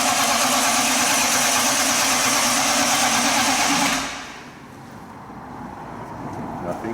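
A starter motor spins an engine over to prime the oil pump, a loud steady whirring crank for about four seconds before cutting off to a quiet hum.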